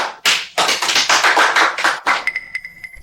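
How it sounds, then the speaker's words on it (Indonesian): A group of people applauding a newly presented seasonal product design in an office, a dense burst of hand claps lasting about a second and a half, followed by a brief ringing tone. "Ayo tepuk tangan."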